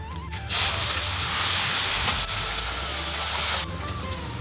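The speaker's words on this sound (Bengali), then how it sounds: "তেলটা গরম হয়ে গেছে, এবার পেঁয়াজটা দিয়ে দিচ্ছি।" Onion dropped into hot oil for palak chicken bursts into a loud, steady close hiss that holds for about three seconds before easing back to a quieter sizzle, with no talk.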